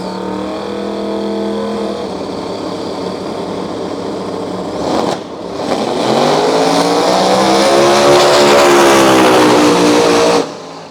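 Radial drag race cars launch down a Brisbane strip at a state radial event, engines roaring loud and close with a rising, sustained revving pass after a brief lull, no talk over it.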